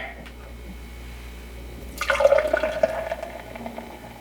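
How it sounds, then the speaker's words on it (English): Voodoo Ranger Hop Avenger IPA is poured hard into a glass, starting with a faint trickle and then a louder gurgling, splashing rush of liquid that settles into a softer fizz. "Nice hard pour there going into the"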